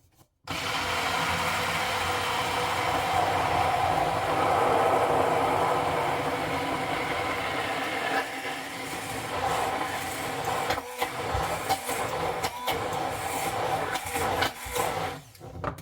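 A blender runs at maximum power whipping homemade mayonnaise, a steady loud whirring drone that later turns uneven and choppy with brief dips and bumps as the jar is lifted slightly.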